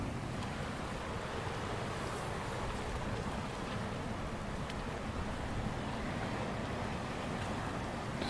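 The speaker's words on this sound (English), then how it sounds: "Just notice the detail in the waves." Waves surge and wash continuously against a rugged Scottish coast under overcast skies, a steady broad roar mixed with wind buffeting the microphone.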